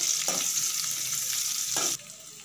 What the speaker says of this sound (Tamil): நம்ம அரிஞ்சு வச்சுருக்கிற பெரிய வெங்காயத்தையும் போட்டு வணக்கிக்கலாம்